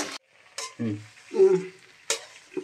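A sugar-sweetened mixture goes into a pan for an oil-free recipe and sizzles, with several short bursts of hissing and scraping as it is stirred and spread, fairly close and with no talk.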